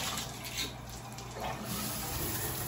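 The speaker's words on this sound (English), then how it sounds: "let's go ahead and test out the shower" A hotel room shower runs steadily, a continuous hiss of spraying water that stays even and close from start to finish with no talking.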